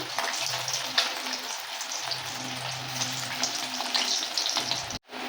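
Mourala fish chops deep-frying in mustard oil, producing a dense, continuous crackle and sizzle with occasional stirring noise, briefly cutting out just before the end.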